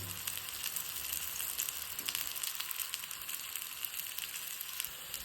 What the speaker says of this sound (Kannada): ಆಚೆ ಈಚೆ ಎಲ್ಲ ತಿರುಗಿಸಿ ಸ್ವಲ್ಪ ಗೋಲ್ಡನ್ ಬ್ರೌನ್ ಕಲರ್ ಬರೋಷ್ಟು ಫ್ರೈ ಮಾಡೋಣ